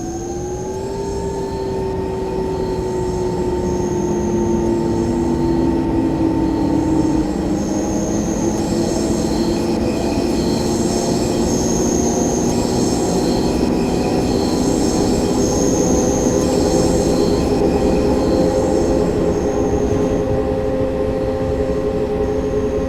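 An S-Bahn Berlin electric train in Train Simulator 2016 pulls away with a loud, continuous rumble. Its motor whine glides and shifts in pitch as it accelerates, with faint wheel squeal on top.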